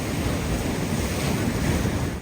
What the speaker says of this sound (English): There's something about the sound of the waves that's magical for clearing my mind.